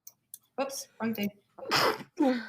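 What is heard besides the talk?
sneeze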